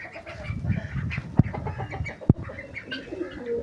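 Pet pigeon and chickens at home, clucking and cooing in a busy, close mix with two sharp knocks cutting through.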